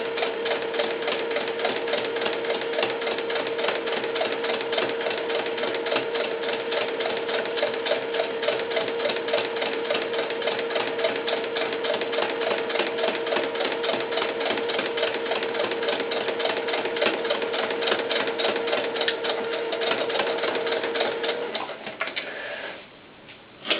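A sewing machine top stitching a doll baseball cap runs in a steady, fast, even whir with a constant hum for over twenty seconds, then slows and stops near the end; no voices.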